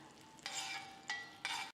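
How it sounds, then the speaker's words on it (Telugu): Cashews and raisins frying in ghee for chana dal kheer: three sharp bursts of stirring and scraping in the pan over a faint sizzle, quiet and close. "జీడిపప్పు కిస్మిస్ వేసి వేయించుకుందాం"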